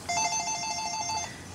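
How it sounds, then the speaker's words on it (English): A Panasonic cordless phone plays its default ringtone after a factory reset, one bright electronic trill with steady tones lasting just over a second, loud and close. "you have the first ringtone and everything set to default"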